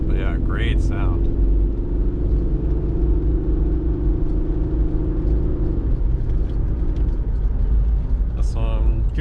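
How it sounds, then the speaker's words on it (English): A steady, deep engine rumble drones inside a moving 1992 Mitsubishi Pajero with a 3.0-litre V6, with a voice speaking briefly at the start and end. "I really like the sound of these engines. These 3-liter V6s, they're pretty throaty."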